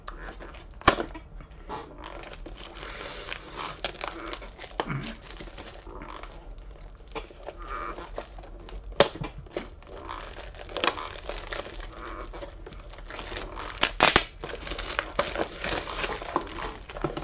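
Packaging for boxed PC games being unwrapped, with scattered close crinkles, crackles and sharp tearing pops of sticky tape spread irregularly over a quiet background.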